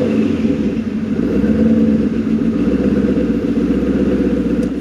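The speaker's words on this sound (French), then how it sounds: "en étant brutal avec la pédale, le moteur boite un peu." A Maserati 3200 GT engine runs loud and close, with a rough, lumpy idle after a blip of the throttle and an uneven, wavering drone throughout.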